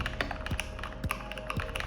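Typing on a custom-built mechanical keyboard, a close run of crisp key taps with a few heavier thuds roughly every half second over a constant low hum.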